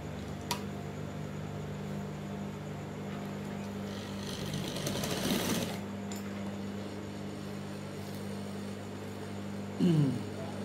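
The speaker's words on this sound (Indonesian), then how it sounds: "Lalu kita tacking dulu ya, kita jahit dulu." A sewing machine stitches a Japanese zipper onto a brocade gamis, giving a steady low motor hum throughout with a short rustling swell midway and a small clunk near the end.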